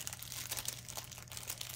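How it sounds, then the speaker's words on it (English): A magnet is dropped into a thin plastic bag, giving quiet, close crinkling and rustling of plastic in short irregular bursts over under two seconds, with a low steady hum underneath and no speech. "now what I'm going to do is put a magnet in a plastic bag."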